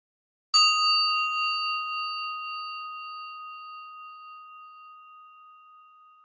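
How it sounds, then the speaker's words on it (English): A meditation bell is struck once and its clear ringing tone slowly fades over several seconds, alone in near silence. "I'm going to ring the bell and just notice the awareness factor, that you are aware of the bell, both as it is struck and then as it fades away"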